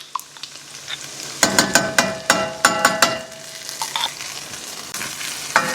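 Drained oil-packed sun-dried tomatoes and sun-dried tomato pesto cooking in a pan: a steady sizzle with a run of close, rhythmic scraping and tapping strokes as a utensil stirs, then quieter frying.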